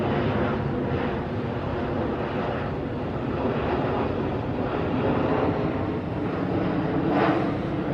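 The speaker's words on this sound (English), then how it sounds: "Plane going overhead." A fixed-wing airplane passes overhead near a Brisbane roadside, producing a continuous broadband engine roar that stays fairly even throughout, with light wind noise and no speech.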